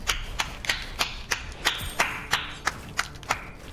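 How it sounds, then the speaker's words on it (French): One person claps hands steadily, about three sharp, close claps a second, for a dozen beats in an otherwise quiet room. "J'applaudis"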